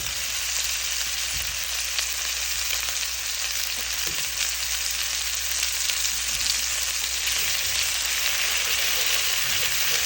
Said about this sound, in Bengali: বাটারের মধ্যে এখন আলুটা ভাজা হচ্ছে